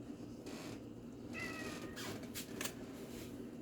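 A pet cat gives a short meow in a kitchen, moderately faint against quiet room noise, with a couple of brief clicks afterwards and no speech.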